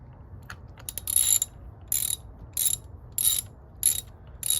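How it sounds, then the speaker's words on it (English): Spark plugs being threaded back into a 2014–2018 Kia Forte engine with a ratchet, heard as repeated bursts of crisp ratcheting clicks in regular strokes, close and fairly loud, with no talk. "now we're gonna put the spark plugs back in, and we are not gonna torque them."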